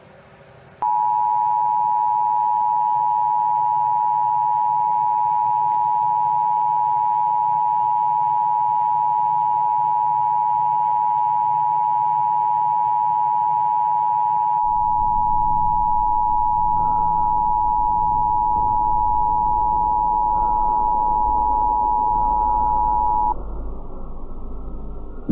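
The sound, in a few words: emergency alert system attention tone before national emergency broadcast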